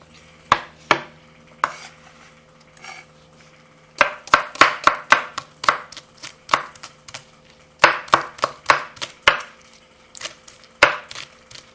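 A knife chops scallion on a cutting board in quick, sharp bursts of taps, loud and close, with short pauses between the runs and no talking.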